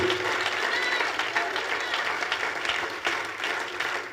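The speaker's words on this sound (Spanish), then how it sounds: "Alguien dele un aplauso al Señor por ello." A church congregation applauds steadily during a sermon, dense clapping filling the room for several seconds at a fairly loud level.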